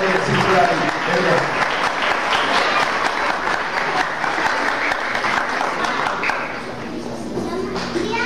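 Sustained crowd applause at a quinceañera fills the whole stretch, with voices calling out over it, easing slightly toward the end.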